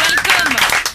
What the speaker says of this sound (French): quelques applaudissements